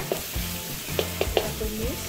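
Carrots stir-fried in a hot wok for seafood capcay, a steady sizzle with scraping, knocking spatula strokes and a few sharp clinks as the vegetables are tossed, close and busy, with no talking.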